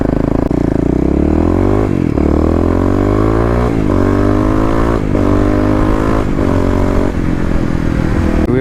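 Kawasaki KLX351 EFI dirt bike ridden hard, its single-cylinder engine revving up and down through gear changes with a loud, close, continuous roar and clattery mechanical edge, no voices.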